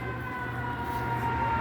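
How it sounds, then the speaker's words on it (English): A fire engine siren approaching a fire station, a steady wailing tone over low traffic rumble, alone without talk. "fire engine is approaching"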